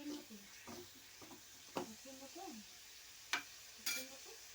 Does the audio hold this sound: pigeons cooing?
no